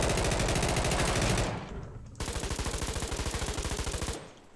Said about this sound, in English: right click for the machine gun if it has one